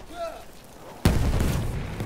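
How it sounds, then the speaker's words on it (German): A grenade explodes in a first-person war video game, one sudden loud blast that cuts in abruptly and rumbles on, preceded by quieter ambient battle noise. "Granate ist raus, aufpassen!"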